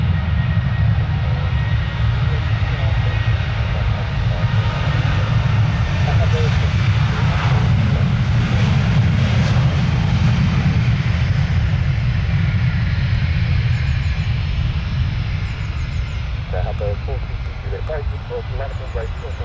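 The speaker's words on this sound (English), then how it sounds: "here's the Ryanair taking off again" A Ryanair jet airliner roaring through its takeoff run at Stansted Airport, a loud sustained engine rumble with a rising whine that swells mid-clip and slowly eases, while someone talks over it.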